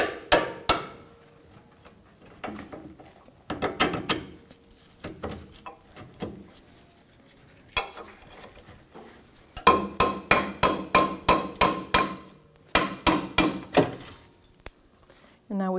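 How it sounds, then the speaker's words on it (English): A hammer taps out the lower rear shock bolt on a 1997-2006 Jeep Wrangler, sharp metallic strikes coming in short bursts, first single knocks and then rapid runs of blows with brief pauses between. "I'll just take a hammer and I'm going to tap that lower bolt out"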